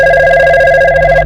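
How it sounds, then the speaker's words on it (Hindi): A phone rings with a steady, continuous electronic tone, close and fairly loud, with no voices over it. "इसका नंबर पर फोन आ रहा है"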